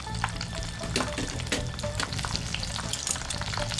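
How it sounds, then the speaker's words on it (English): Breaded jumbo prawns with asparagus deep-fry in hot oil, a dense close crackle of popping bubbles with irregular sharp pops and ladle sounds throughout, no voices. "Deep fry for a total of about 2 minutes until deliciously browned"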